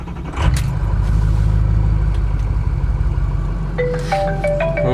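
A Ford Powerstroke diesel pickup truck engine turns over and settles into a loud, steady rumbling idle, with a few faint tones chiming near the end.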